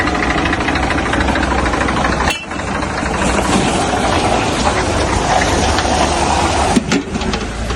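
A tractor engine idles nearby with a loud, steady, rough rumble and a faint knocking pulse that runs without a break.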